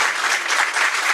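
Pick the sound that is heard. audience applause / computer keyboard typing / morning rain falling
audience applause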